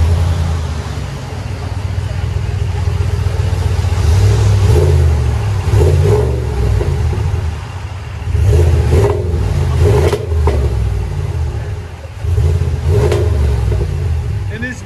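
A 2020 RAM 1500 with the 5.7L HEMI V8 and a Flowmaster 40 Series dual exhaust revs in repeated bursts, deep rumbling swells rising and falling close by, with people talking over it.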